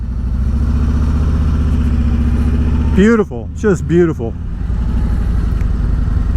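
Steady low Harley-Davidson Road Glide Special engine drone throughout, riding through tight turns, with someone speaking briefly over it midway.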